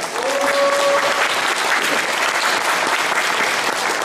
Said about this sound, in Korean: 우리 큰 박수 한번 올려드립시다